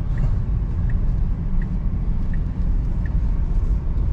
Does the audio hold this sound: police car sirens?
no